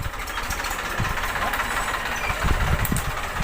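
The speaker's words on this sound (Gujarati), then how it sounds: "એટલે હવે ટ્રેક્ટર આવેલું" Tractor engine running on a farm, carrying a fertiliser load, with a steady mid-pitched chugging idle and faint knocking, close and continuous, swelling slightly louder near the end.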